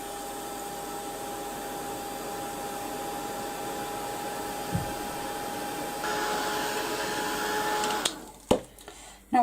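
A dryer blasts steadily to dry paint on a mixed-media art project, a continuous close whooshing roar that swells slightly before cutting off, followed by a few knocks.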